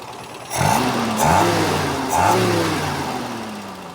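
Peugeot 404 car engine running after being restarted, revved three times in quick swells that rise and settle back, close and fairly loud with no talking.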